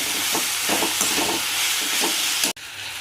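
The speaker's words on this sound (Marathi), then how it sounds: "असे टमाटे बारीक चिरून घ्यायचे, आता तो टाकायचं। कांद्यात घालून परतायचे" Finely chopped tomatoes sauté with onions and garlic paste in a hot pan, making a continuous close sizzle with soft stirring bumps that stops abruptly near the end, with no voices.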